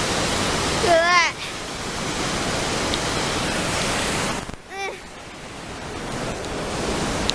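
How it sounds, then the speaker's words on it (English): A large waterfall in Chiapas roars as a steady, dense broadband rush throughout, with two brief bursts of high chirping, like birds, rising above the constant water noise. "I've never seen a waterfall that big."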